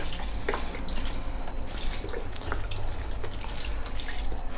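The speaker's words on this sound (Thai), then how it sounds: "ใส่ กะทิลงไปนะครับ สองกล่องนะเพื่อนๆ" Boxed coconut milk pours into a pot of bananas for a Thai sweet dessert, a steady close liquid gush and splash running throughout with no talk.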